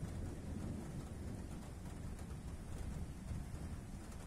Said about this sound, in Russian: гром гремит